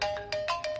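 A mobile phone ringtone rings in short repeating electronic chirps, about five quick bursts in under a second, close and clear.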